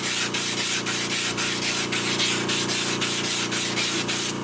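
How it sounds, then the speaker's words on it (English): Steady sanding on a wooden disc for a multi-axis vase, a continuous close rubbing hiss that pulses in regular strokes about every half second, with a faint machine hum underneath and no voices. "I'm not going to spend a lot of time sanding the disc at this point"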